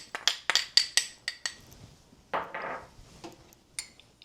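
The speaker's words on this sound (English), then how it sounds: "I'm just going to stir that into the sugar." A spoon scrapes and clinks against a bowl while cornstarch and nutmeg are stirred into sugar, sending a quick run of sharp taps followed by softer gritty scraping, close and with no talking.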